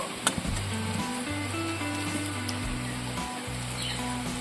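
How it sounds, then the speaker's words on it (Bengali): Chopped onions fry in hot oil with a soft, constant sizzle close by, joined by a low electrical hum and no talking. "পেঁয়াজগুলো প্রায় ভাজা হয়ে এসছে, বেরেস্তা না, একটু কমই ভাজবো।"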